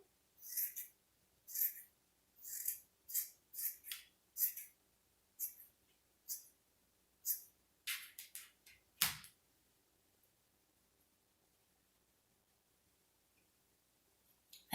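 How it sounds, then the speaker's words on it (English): Scissors trimming a yarn tail on a yarn bird craft, a series of sharp, close snips in an uneven rhythm, about a dozen cuts, followed by near silence. "So you take your scissors and trim it as close as you want."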